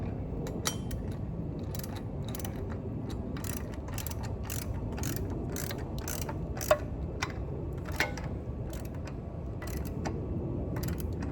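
A ratchet wrench tightens bolts while an adjustable weight bench is assembled, giving a steady run of close, crisp clicks in short bursts with tiny pauses between strokes, and no talking over it.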